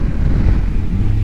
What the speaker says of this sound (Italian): Stiamo facendo un passo con un vento impetuoso che ci sposta.